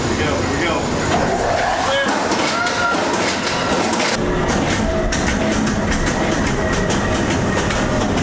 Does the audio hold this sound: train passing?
yes